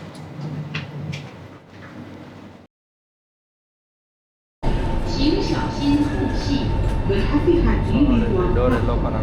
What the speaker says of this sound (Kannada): ಸೊ ನೋಡಿ ಮೆಟ್ರೋ ಬಂತು.